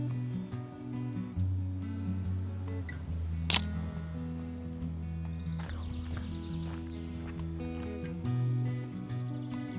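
A single sharp shutter click rings out from a camera fitted with vintage lenses, standing alone above a steady low background hum.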